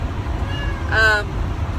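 A cat gives a short, rising meow, close and clear, over a low background rumble.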